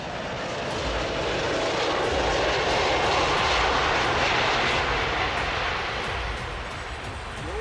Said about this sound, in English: The Boeing 747 is landing after a very long journey.